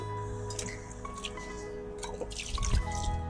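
Water drips and trickles inside a Brinkley 3100 water system, with several distinct close drips over a low steady hum and a small gurgling splash near the end.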